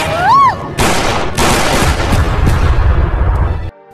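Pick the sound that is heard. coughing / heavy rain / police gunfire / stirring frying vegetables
police gunfire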